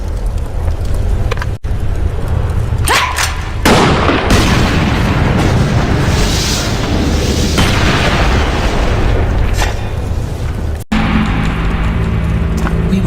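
Explosives blowing up in the video game Blade & Soul, a loud sustained roar of blasts and rumbling debris with sharp bursts near the start and end, no talk.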